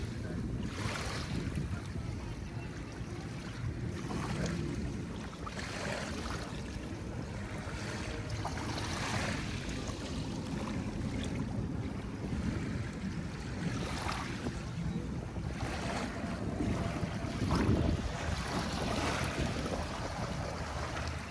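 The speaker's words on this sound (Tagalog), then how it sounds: "Mahangin pag sa tanghali na po" Midday wind blows steadily across Manila Bay, mixed with the wash of waves and occasional gusty microphone rumble, no talking.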